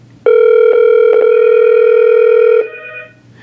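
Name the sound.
desk phone ringing after pressing intercom speed dial key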